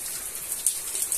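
Heavy rain pours down outdoors onto a garden of potted plants, a steady, dense hiss of falling water with scattered sharper drops spattering close by.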